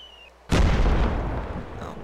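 In the Arma 2: Invasion 1944 game, an artillery round lands with one sudden, loud explosion out of near quiet, and a rumbling, crackling tail fades slowly over the next second and a half.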